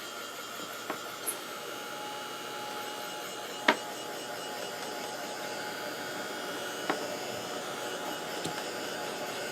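A heat tool blows steadily to dry gold watercolor paint on an embossed card, a constant airy whir with a few faint clicks and taps, no talk.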